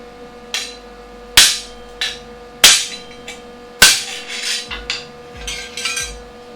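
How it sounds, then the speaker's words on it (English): A small hammer strikes scrap metal to straighten it, giving about half a dozen sharp, close metallic taps at an uneven pace with lighter scraping clinks between them. "I'm going to use baby hammer. Just hit it."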